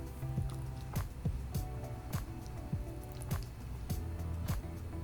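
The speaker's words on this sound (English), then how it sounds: "stir all ingredients until everything is nice and smooth" A spoon stirs low calorie espresso ice cream ingredients in a bowl, giving soft repeated wet squishes and light taps at a regular pace, close and quiet.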